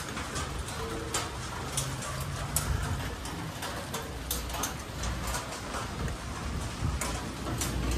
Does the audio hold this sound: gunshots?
no